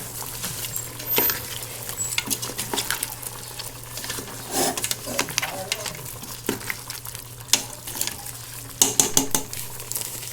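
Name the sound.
mixing duck kaldereta in a pot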